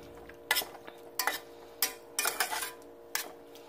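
Turnip greens being stirred in a cooking pot, with a spoon scraping and clinking against the pot in about six short bursts over a quiet kitchen background.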